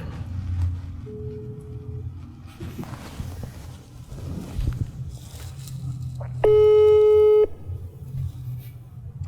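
A telephone busy signal sounds once as a short, loud beeping tone of about a second, heard over background chatter and movement noise.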